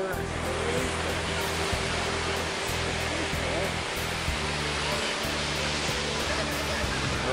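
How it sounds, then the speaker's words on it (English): Ocean surf rolling onto Cocoa Beach near the pier on a bright day, a steady broadband wash of breaking waves that stays loud and continuous throughout. "Ocean."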